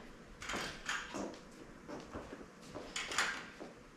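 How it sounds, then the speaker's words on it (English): A door on a theater stage is opened during a production of Crimes of the Heart, with a few soft knocks and scrapes spread across a quiet room. "Come on in, the door's open."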